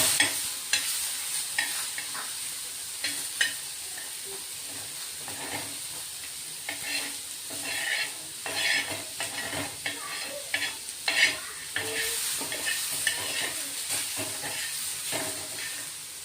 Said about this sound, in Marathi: टोमॅटोही थोडे परतून घ्यायचे